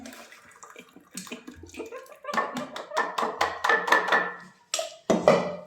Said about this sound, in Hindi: तो चाय बना ली है और फिर मैं छान लेती हूँ कटोरी में।